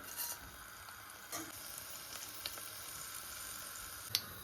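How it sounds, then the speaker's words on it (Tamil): Mustard and fennel seeds in a little hot oil, tempering for a prawn curry, give a quiet, steady sizzle with a few sharp pops and crackles, and no talk. "நான் கொஞ்சமாக தாளியத்துக்கு எண்ணெய் சேர்க்கிறேன் கடுகு சேர்ப்போம் பெருஞ்சீரகம் சேர்ப்போம்"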